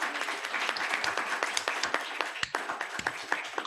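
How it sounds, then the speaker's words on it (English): A room of people at a writers' guild general meeting applauds a speaker, with moderately loud, somewhat sparse clapping and individual claps standing out as it carries on and begins to thin. "Another round of applause for Sandy."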